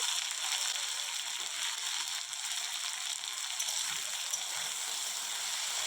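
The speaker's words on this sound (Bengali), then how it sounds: "আলুগুলোকে লাল লাল করে ভেজে নেব।" Diced potatoes fry in hot mustard oil with a steady, hissing sizzle and fine crackle that carries on evenly and alone at a moderate level.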